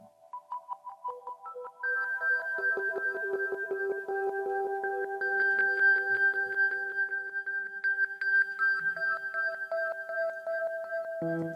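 A bright Native Instruments Electric Keys Diamond keyboard plays a rising, higher-pitched sequence of repeating notes, each trailed by psych echoes that pile into a shimmering wash; steady and clear, no voices.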